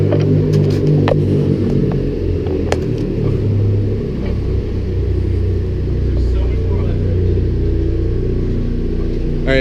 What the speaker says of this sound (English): just bringing this car around right now